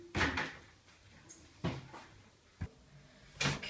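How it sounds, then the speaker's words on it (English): Door being opened in a Spider-Man video game, with several short knocks and clunks spaced a second or so apart, fairly quiet, and no talking over them. "How do I open the door?"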